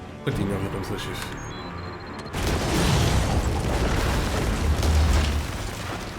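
An explosion in the video game Batman Arkham Origins erupts as a sudden loud boom with a long rumbling tail, after a short stretch of quieter game sounds.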